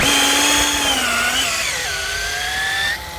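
A power drill bores into the trunk of a four-year-old Siamese rosewood tree, a loud steady whine close by that drops in pitch as the bit bites deeper, then cuts off near the end.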